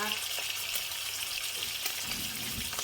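Salted fish fries in a pan, giving a continuous close sizzle and spatter with a dense, even texture and no clear pauses.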